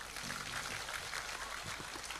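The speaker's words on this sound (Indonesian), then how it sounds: "Tepuk tangan untuk Mak Arif." Steady applause from a crowd, a dense continuous patter of clapping that holds at an even level throughout.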